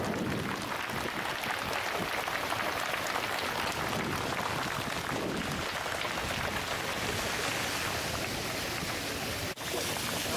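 A flashmob crowd outdoors at Muzeon park in Moscow claps hands together, a dense, steady wash of many hands applauding at once for the whole stretch, broad and fairly loud, with no talking.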